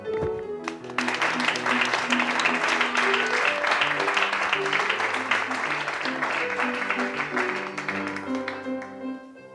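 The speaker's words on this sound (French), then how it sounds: "on vous applaudit" Studio audience applause on a French TV variety show, steady crowd clapping sustained throughout, heard under loud music playing at the same time.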